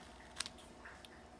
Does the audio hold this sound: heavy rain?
no